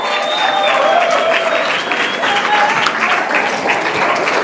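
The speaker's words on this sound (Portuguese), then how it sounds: "Uma salva de palmas à minha equipa, por favor" Loud applause for a team at a company presentation, close and dense clapping with crowd noise and a few whistles or cheers riding over it throughout.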